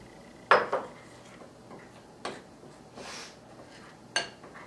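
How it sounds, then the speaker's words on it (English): Yeast being stirred into runny bread dough in a bowl, a few sharp clinks of a utensil against the bowl with softer scraping between, close and quiet without talk. "I'm going to stir in the yeast now while it's still a little bit liquidy so that I can stir it in well"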